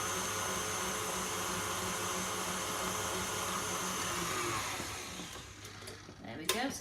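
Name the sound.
electric whisk whisking cream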